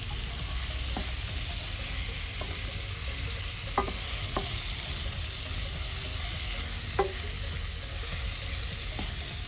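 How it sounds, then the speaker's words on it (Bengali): Meat for a home-made biryani cooks in a pot, giving a steady sizzling hiss with a few faint stirring clicks and knocks spread through, no talking. "আপাতত মাংসটা হচ্ছে"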